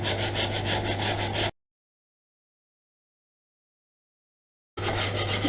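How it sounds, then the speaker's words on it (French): Painted wooden furniture edges scraped to expose gold underneath for a distressed, powdery-paint finish: steady close rasping strokes, then a full silent gap, then the scraping resumes. "Il ne faut pas hésiter à gratter"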